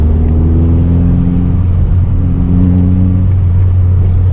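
A boosted Vauxhall Corsa B with a turbocharged C20LET engine accelerates hard, its loud, close engine note climbing steadily in pitch through the gears, with a short dip at a shift before rising again.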